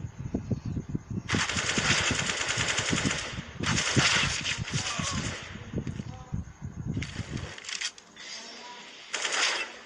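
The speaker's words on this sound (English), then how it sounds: "Sterling is pretty sharp with the USP there" Rapid USP pistol shots and other gunfire in a Counter-Strike match, a dense run of sharp cracks with game effects, under a caster's excited commentary.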